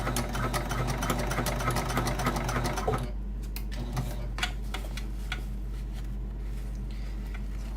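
Sewing machine running top stitching, loud and steady for about three seconds, then stopping, followed by quieter scattered clicks and handling noises against a constant low hum.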